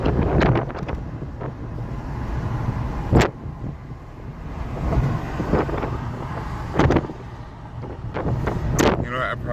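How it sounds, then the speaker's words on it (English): Gusts of outdoor wind buffet a microphone, a constant low rumble broken by louder whooshing bursts, while a voice talks over it. "There's a bit of wind."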